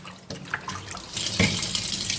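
Vegetables being washed in water for a Malayalam-style lunch, with running, splashing water from a sink that grows steadily louder, close up, with no talking.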